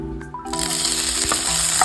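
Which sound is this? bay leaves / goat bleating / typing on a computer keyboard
bay leaves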